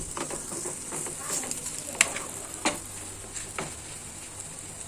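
Ragi adai fries in oil on a pan with a soft, continuous sizzle, broken by a few light taps and clinks.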